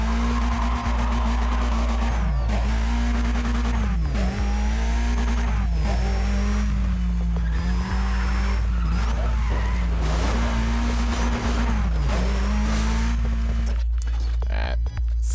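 A front-wheel-drive Volkswagen Golf in Need for Speed ProStreet, its engine droning and rising and falling through gear shifts, with steady tire skidding under a constant loud low hum.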